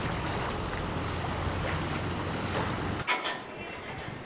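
Ocean waves and wind at Newport Beach on a fine day: a broad, steady rush of surf and gusty wind buffeting the microphone, then a sudden drop to a quieter wash with a few faint splashes.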